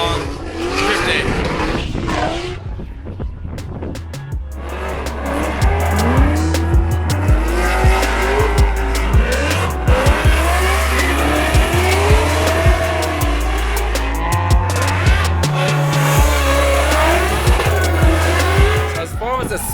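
A drift car at Willow Springs Raceway squeals its tires loudly and continuously through long slides, engine droning and revving underneath, with a voice talking over it.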